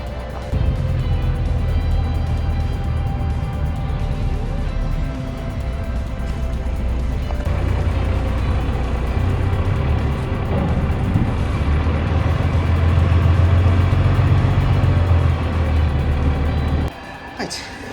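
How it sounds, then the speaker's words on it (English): A bus rumbling along on the way to a ferry terminal, a steady low engine and road drone heard from inside the cabin that holds constant throughout, then drops away sharply near the end. "On the bus, next stop, the boat."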